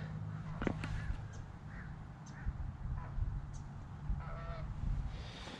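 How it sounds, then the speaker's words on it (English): Geese honking as they fly overhead in an outdoor park, a few faint, distant calls scattered over steady background noise. "We might have some geese flying overhead."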